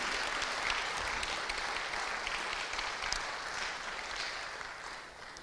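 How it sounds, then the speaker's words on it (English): Congregation at a multi-faith Juneteenth revival gathering gives sustained applause, a steady, fairly distant wash of clapping that tapers off slightly at the end. "Let's give her one more round of applause,"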